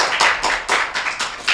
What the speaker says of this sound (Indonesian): tepuk tangan tuh Bapak Wasito